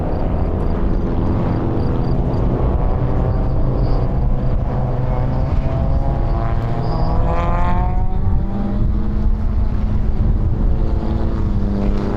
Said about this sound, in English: The guys are off to the formation lap here.